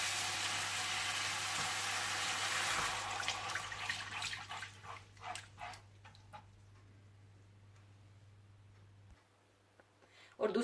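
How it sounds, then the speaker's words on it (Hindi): A cup of water poured into a pan of soy sauce, crushed red pepper and red chili garlic sauce gives a loud rushing hiss that breaks into scattered drips and bubbling, then settles quiet. "और साथ ही आप इसमें 1 कप पानी डाल दें।"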